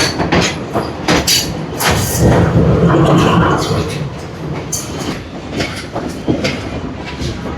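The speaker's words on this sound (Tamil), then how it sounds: "இருபது km/h என்ற வேகத்தில் தான் இப்போ பயணிக்குது புகையிரதம்." Passenger train rolling slowly at about twenty km/h on the line from Jaffna toward Kataragama, with a loud rumble, rhythmic wheel clatter and rattling carriage noise heard from aboard.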